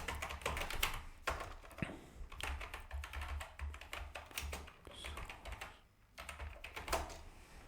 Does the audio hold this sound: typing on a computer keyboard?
yes